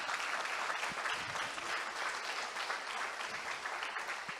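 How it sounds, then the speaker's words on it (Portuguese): Steady, dense applause fills a church gathering, sustained and fairly loud throughout with no individual claps standing out. "Dá um aplauso aí para Deus."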